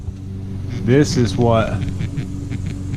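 A lawnmower engine runs outside an open garage, a steady low droning hum in the background while someone talks over it.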